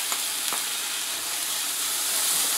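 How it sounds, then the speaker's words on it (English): Vegetables, tomatoes and olives sauté in a pan with a steady, bright sizzle, and two quick spatula clicks sound near the start. "I'm just going to saute these for about a minute."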